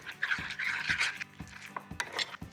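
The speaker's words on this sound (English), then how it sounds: "I love basil. All right, stir that in." A spoon stirs basil into a blackberry ricotta filling in a bowl, soft scraping and light clinks against the bowl repeating in a quiet, steady rhythm.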